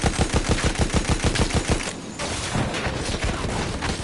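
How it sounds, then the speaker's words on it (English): Rapid bursts of infantry gunfire in the Battlefield video game, a steady run of loud automatic shots for about two seconds, then a denser, more muffled spray of fire continuing behind it. "Gee, even the infantry are shooting at us."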